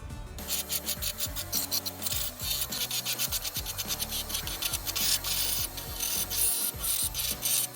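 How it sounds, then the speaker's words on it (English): A finger sander grinds rust rot out of the quarter panel on a 2003 Subaru WRX, a loud, continuous rasping scrape with rapid back-and-forth pulses throughout, close up and with no talking. "get the finger sander, this guy, and we're gonna get into there as much as possible to get all the rest of that rot out"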